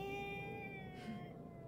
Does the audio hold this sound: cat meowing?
yes